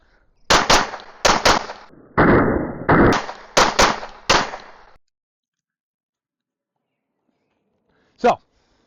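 A CZ75 open-class pistol fires 137 grain rounds in a rapid string of about eight sharp, loud shots in quick pairs and bursts, followed by silence and one last distant crack.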